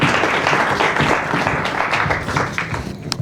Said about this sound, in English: Can we give a warm round of applause for our first speaker of 2025